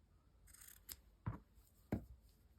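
Scissors cut fabric while a junk journal is being made, producing a few quiet, crisp snips spaced apart in a near-silent room.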